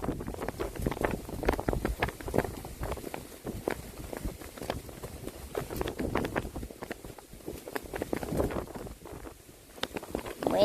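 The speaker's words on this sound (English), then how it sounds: "Windy day today." Strong wind buffets the microphone outdoors in Xinying, Taiwan, during a round-island trip, making a continuous rough, rumbling roar that rises and falls in gusts.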